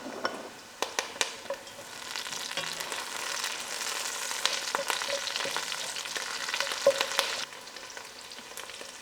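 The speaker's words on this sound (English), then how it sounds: "I will allow these onions to fry till it's soft." Onions and thyme fry in a pan for chicken stew, giving a continuous close sizzle with occasional sharp ticks and scraping stirs, steady throughout and free of talk.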